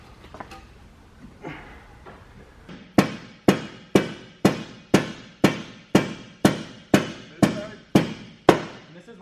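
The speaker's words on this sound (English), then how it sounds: "I just need to hammer this side" Sharp metallic hammer blows on a Toyota JZX100 car subframe strike in a steady, regular rhythm, about a dozen loud ringing hits close by, after some quieter clanks.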